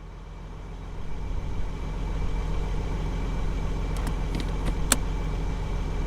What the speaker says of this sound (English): Sir, please kill your engine.